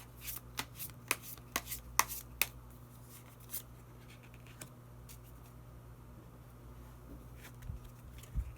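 Tarot cards are shuffled and a hidden card is drawn, giving a cluster of crisp, close riffling snaps early on that thins to occasional soft flicks and slides over a low steady room hum.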